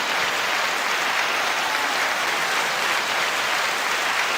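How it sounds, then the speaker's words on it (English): Steady, dense applause from a crowd fills the whole stretch evenly, a continuous wash of clapping with no talk over it. "9-second applause."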